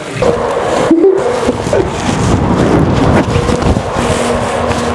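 Steady whooshing air noise from a cooling fan jacket blowing close to the microphone, continuous and fairly loud with a brief dropout.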